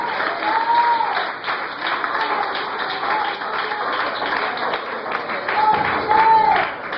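Church congregation applauding Christ during a sermon, a steady wash of clapping across the whole stretch with a few sung or called-out voice tones rising briefly above it.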